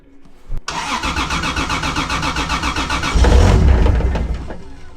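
A Toyota 2JZ engine swapped into a Nissan S14 cranks with a rapid rhythmic starter chug, then catches and fires into a louder rumbling surge before fading, close and without talking.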